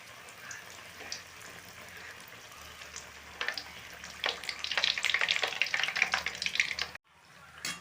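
Nei appam batter fries and puffs in hot ghee, a soft bubbling sizzle that swells into dense, crackling spatters before cutting off abruptly, then returning faintly.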